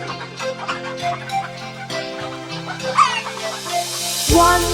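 Clucking of a big fat cartoon hen, rhythmic short clucks mixed into a lively children's song with steady beat and singing throughout.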